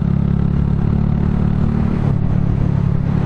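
A Honda Grom MSX125 motorcycle fitted with a cheap $99 Chinese aftermarket exhaust rumbles steadily at close range, a loud, even low-pitched engine drone with no talking.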